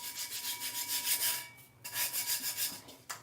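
Glitter finish is rubbed on a geode tumbler in quick, rhythmic close-up strokes, a dry raspy scratching that pauses briefly once before resuming.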